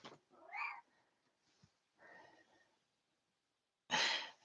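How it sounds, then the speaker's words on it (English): A neighbour's cat meows several times indoors, with soft breathy sighs between the calls. The calls are mostly quiet, and a loud final meow ends the sequence. "That's my neighbor's cat that lives upstairs from me."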